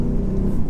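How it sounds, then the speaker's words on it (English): A 2017 Audi SQ7 under hard acceleration gives a loud, steady engine roar with strong low-frequency rumble, sustained throughout the short burst without any talk. "Let's see what this SQ7 is about then. Foot down."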